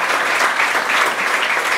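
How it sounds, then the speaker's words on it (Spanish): Dense, steady applause from a congregation at a church wedding, continuous clapping filling the whole moment with no pauses. "Vamos a un aplauso a nuestro Dios."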